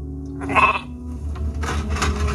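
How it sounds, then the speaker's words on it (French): A sheep about to be slaughtered in a ritual scene gives one loud, wavering bleat up close, followed by rustling and shuffling from handling. "Maintenant, laissez-moi égorger le mouton."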